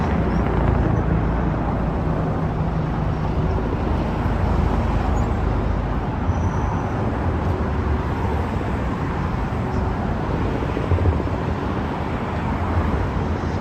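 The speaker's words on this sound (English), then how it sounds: "Now the cars go on either side of us, below us." Continuous roadway traffic around and beneath a pedestrian walkway on the Brooklyn Bridge, a dense, steady broadband rumble of passing cars with no single vehicle standing out, heard from a moderate distance over the whole stretch.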